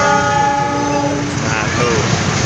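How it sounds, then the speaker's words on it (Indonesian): A train at Tegal railway station sounds a loud, sustained horn blast with stacked harmonic tones, close by and dominant, fading slightly toward the end over rumbling rail noise. "Masih di stasiun Tegal ini. Ada kereta ini."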